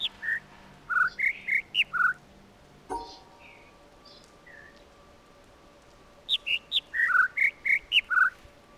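Birdsong from a puzzle in the video game The Witness, set in an autumn forest area: two phrases of clear, whistled chirps in quick stepped sequences, separated by a quieter gap with a few softer calls.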